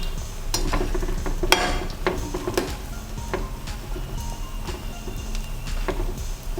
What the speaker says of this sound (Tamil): மீடியம் ஃப்ளேமில் வச்சு பொரிச்சுக்கோங்க